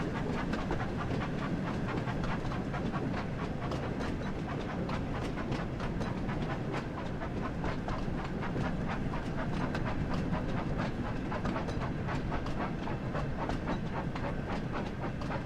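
Thomas the Tank Engine, a small steam tank engine in a Thomas & Friends video game, runs steadily with continuous rhythmic clickety-clack of wheels on rail and chuffing, loud and close throughout with no talk.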